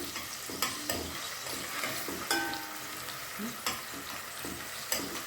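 Garlic fried in hot oil and stirred for Egyptian koshari, a close, steady sizzle with regular scraping knocks of the spoon against the pan about once a second, no talk.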